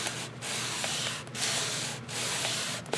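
A tool rubs firmly back and forth over a freshly glued paper hinge binding, making several sustained scratchy sanding strokes with brief gaps between them, close and alone.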